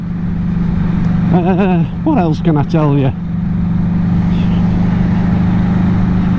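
A Matchless Silver Hawk vintage British motorcycle engine idles steadily throughout with a low, even drone, while someone speaks briefly over it near the start.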